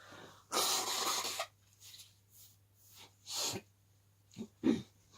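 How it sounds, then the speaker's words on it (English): Someone blows their nose in several quick bursts: one long honking blow, then shorter snorts and sniffs close to the microphone. "I really need to blow my nose."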